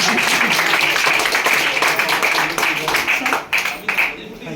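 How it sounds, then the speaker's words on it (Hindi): An audience applauds a speaker at an AWPL Ayurvedic motivational meeting, with dense, sustained clapping from a large crowd that rises loud and full, then thins out in ragged bursts toward the end. "जोरदार ताली बजाओ सर के लिए।"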